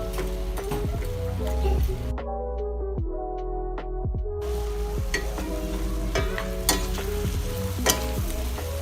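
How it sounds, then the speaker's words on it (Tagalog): Pork ribs with potatoes and carrots cooking in a pan while being stirred, a close, steady sizzle broken by repeated clinks and scrapes of the spoon, with a brief lull in the hiss before it returns. "Sunod ay ilagay na ang patatas at carrots. Haluin lang, takpan at hayaan maluto ang patatas at carrots."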